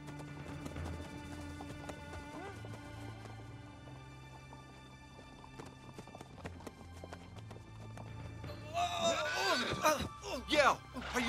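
Horses' hooves clip-clop steadily while riders travel toward bison country, mixed with music and brief talk, with a short horse whinny and livelier hoof noise near the end.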